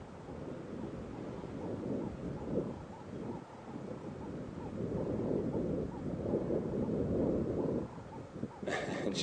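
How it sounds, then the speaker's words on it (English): Gusty wind buffets the microphones on an open African safari drive at sunset, a steady low rumble that swells and eases for the whole stretch with no clear voices. "The wind is blowing a little bit heavy at the moment. Quite windy coming from our back, so you will hear a little bit on the microphones as well."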